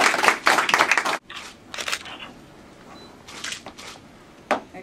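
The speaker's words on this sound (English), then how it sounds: "So we applaud the Williams family." A short burst of clapping for the Williams family, then scattered claps and room murmur, quiet and somewhat distant.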